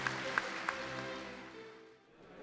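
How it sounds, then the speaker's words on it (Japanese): An audience applauds at a Rotary district conference hall. The clapping is a soft, diffuse wash that fades steadily to near quiet within about two seconds. "ラジオの皆様に拍手をお願いいたします。"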